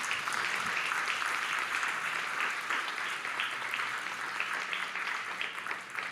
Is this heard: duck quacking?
no